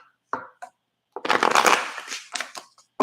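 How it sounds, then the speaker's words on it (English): Tarot cards shuffled by hand nearby: a couple of short riffles, then one longer burst of rapid flicking, with quick taps after. "Last shuffle."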